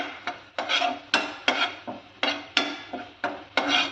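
A spoon stirs dried coconut powder into a poha sweet in a pot, giving about a dozen close, rhythmic scraping and clinking strokes with no talking.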